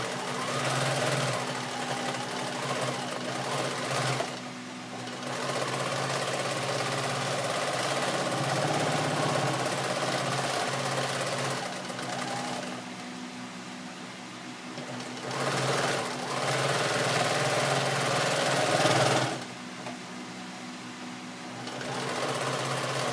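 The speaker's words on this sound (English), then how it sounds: "just do a regular straight seam, back stitch at the beginning, go all the way around your apron till the other side" A sewing machine runs a straight seam around a denim apron made from old jeans. It chatters in long continuous bursts, with a few brief pauses between runs.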